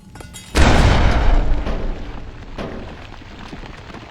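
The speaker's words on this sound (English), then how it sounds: "Stupid fucking grenades." A grenade blast in Fallout: New Vegas hits with a sudden heavy boom, then a rumbling tail that fades, with a smaller second burst about two seconds later.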